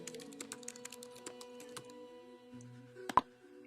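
Quiet, close clicking of keys on a computer keyboard as a website link is typed, irregular taps in short bursts with one sharper louder keystroke near the end.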